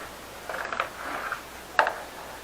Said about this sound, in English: I'm going to get an 8mm spanner for these bolts